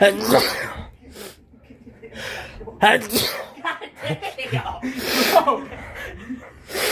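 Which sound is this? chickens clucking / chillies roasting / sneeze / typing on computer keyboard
sneeze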